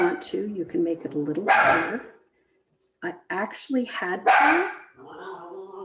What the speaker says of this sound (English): There's my dog barking in the background.